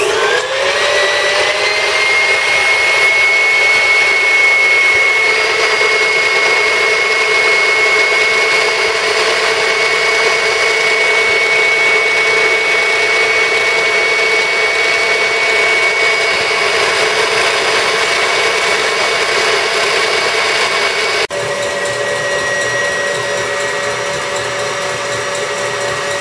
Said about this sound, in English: We're going to turn up the whisker there till we get all 6 eggs into the mix.